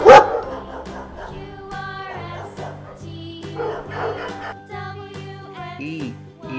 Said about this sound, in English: D, D for dog. D, O, G, dog.